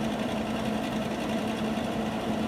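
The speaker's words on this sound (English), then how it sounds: "Me pulling the trigger away from the panel, that's just to get the wire to come out a bit." A MIG welder's wire feed whirs and buzzes steadily with a low motor hum while the trigger is held away from the panel, close and continuous throughout.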